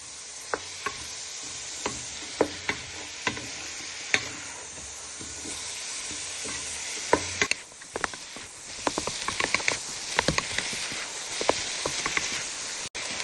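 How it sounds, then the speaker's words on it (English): Potatoes fry in a pan with a steady, bright sizzle while they are stirred, with intermittent scraping and knocking from the utensil that grows busier toward the end. "So you just want to stir them in so they get some colour on them potatoes."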